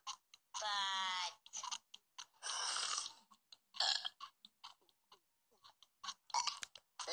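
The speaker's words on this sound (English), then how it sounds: "We're having a burp contest" Burping in a burp contest in The Simpsons cartoon, two long drawn-out belches with a rasping, rippling texture, followed by scattered short clicks and smacking mouth noises.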